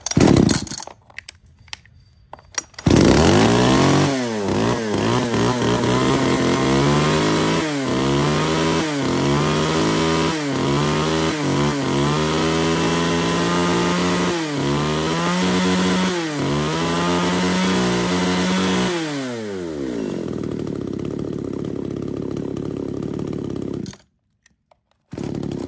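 A compact mini chainsaw runs loud and close for about twenty seconds, its engine revving up and down repeatedly in rhythmic surges before winding down and cutting off.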